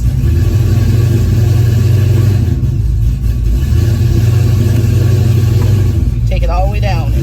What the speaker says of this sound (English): And I'm getting ready to give it gas.